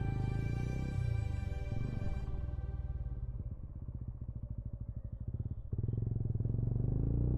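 Motorcycle ridden along a North Bengal road in thick fog, its engine a steady close droning hum with a strong harmonic whine that dips and settles, then surges louder again as throttle opens.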